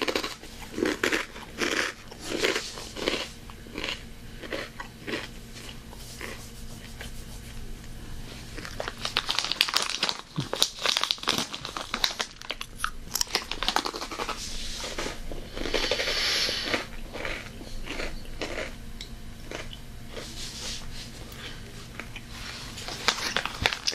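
Egg white chips crunched and chewed up close in a snack-box tasting, with sharp bites and steady crunching across the clip, plus intermittent crinkling of the chip bag, no talking.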